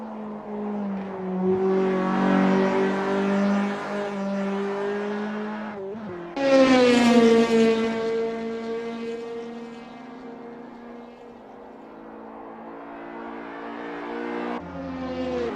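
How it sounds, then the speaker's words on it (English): Race car in the Assetto Corsa video game at the historic Goodwood circuit, its engine loud and close, revving hard through rising and falling gear changes with a sharp surge of acceleration partway through. "There goes Mr. Bang on their first dance with Goodwood"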